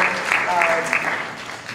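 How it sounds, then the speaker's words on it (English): An audience at a cabaret event in Chicago applauds, a brief burst of steady clapping from a room of people with a voice speaking over it. "I would like to give a round of applause for Mr. Alex, the most incredible, brilliant"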